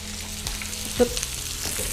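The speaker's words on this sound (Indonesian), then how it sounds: "ini cuma kayak flavoring the pan dan cuma cari warna untuk ayamnya aja" Chicken pieces pan-frying in a pan to pick up colour, a steady close sizzle and crackle with a few light clinks and stirring sounds, no talking.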